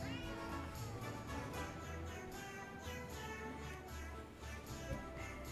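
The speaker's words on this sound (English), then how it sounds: "He has a bunch of meows." Cats meowing in the shop-management game Potionomics, repeated short meows sitting over continuous dense game music that fills the whole clip.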